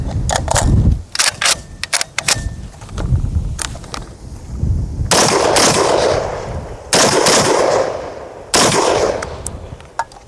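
An FAL rifle fires several rounds from a South African magazine, sharp, loud, close shots in short bursts and singles, with ringing echo and brief gaps of quieter clatter between them.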